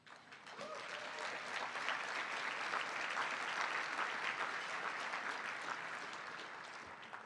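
Sustained audience applause at an awards-style event fills the room steadily for several seconds, dense and even, fading slightly at the end.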